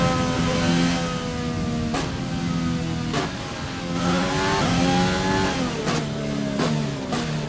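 Race car engine in a video game on a warm-up lap, revving through repeated gear shifts with sharp gear-change breaks, steady and fairly loud, no talk.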